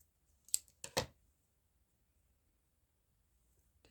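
Scissors cut through a sheet of paper folded in half, giving two or three brief close snips in quick succession, then near silence.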